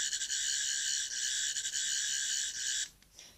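A 12th Doctor sonic screwdriver toy plays its breaking sound effect, a steady, shrill electronic buzz with a rapid flutter that runs for nearly three seconds and then stops abruptly, leaving faint crackles behind.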